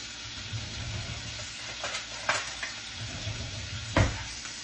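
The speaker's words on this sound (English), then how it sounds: "let's sear that one little side" A beef pot roast searing in a hot pan, giving a constant close sizzle and hiss with a few sharper spatters and the odd scrape of the meat being moved.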